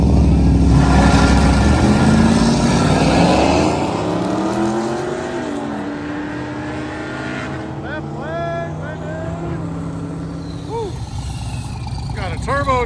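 Ford F-150 and a cammed 80s Chevy stepside truck drag racing at a drift and drag event, engines roaring loudly then pulling away with rising and falling revs, a crowd voice and announcer chatter mixed in.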